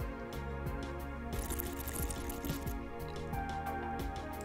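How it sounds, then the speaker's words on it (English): Air being sipped through liquid held in the mouth while tasting, a continuous close, wet slurping gurgle with bubbly crackles throughout, fairly faint and without talk. "you hold liquid in your mouth and then you sip air through the liquid"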